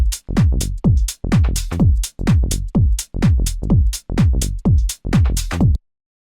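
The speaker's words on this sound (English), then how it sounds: "I made this little loop of a bass and some drums" A minimal tech house loop of punchy bass notes and drums, a steady repeating groove of short, loud hits with brief gaps, played cleanly with no talk.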